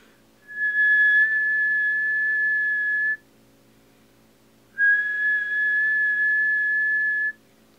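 Two long, steady high-pitched whistle blasts, each about two and a half seconds, separated by a short pause, clear and close.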